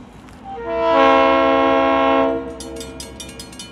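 A horn sounds one long, loud blast over the low rumble of a passing ex-Mount Hood Railway GP9 diesel locomotive hauling four empty tank cars on the Santa Cruz branch, then fades as clicking rail noise continues.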